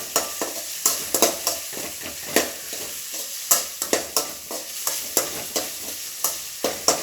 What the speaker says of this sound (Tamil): இதை நல்லா வணக்கிக்கோங்க.